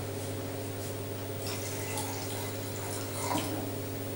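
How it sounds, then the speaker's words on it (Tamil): Water poured into a container while making lemon mint ginger juice, a steady continuous splashing stream running close and alone for several seconds, with a brief brighter gurgle near the end. "இதில் உங்களுக்கு வேணுங்கிற அளவுக்கு தண்ணி ஊற்றிக்கோங்க."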